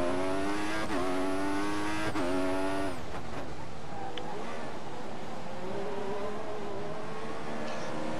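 High-revving Formula One car engine in the F1 2014 racing game on a lap of the Malaysia circuit, a loud sustained whine that climbs and drops sharply with gear shifts, then a busier stretch of lower engine drone and tire noise.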